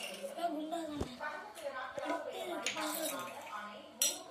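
Toy kitchen utensils and small play pots, including a toy idli steamer, stove and spoon, clink and clatter in scattered sharp knocks while being handled, with someone talking throughout.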